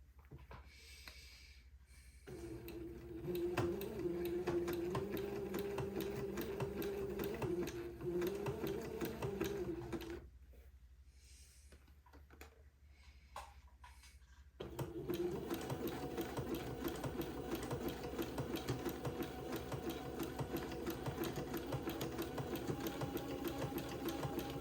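A sewing machine stitches an heirloom baby garment, needle going into entredeux holes, in steady mechanical runs broken by a few short pauses, close and continuous throughout.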